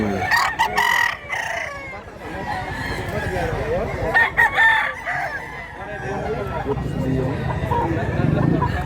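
Roosters crow repeatedly at a gamecock farm in Mantalungon, Cebu, several loud calls overlapping with clucking hens, while someone talks nearby throughout.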